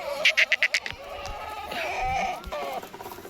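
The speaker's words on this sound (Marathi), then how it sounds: "हे बघा मित्रांनो झोकाला शेळ्या पण आहेत" Several pregnant goats bleat up close, starting with a quick run of short, wavering cries followed by longer calls amid farmyard background noise.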